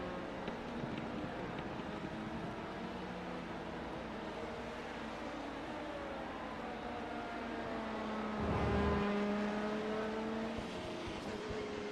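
Prototype race cars in iRacing at the Hockenheimring cross the line, a continuous engine drone with a louder car sweeping past partway through, with no talk.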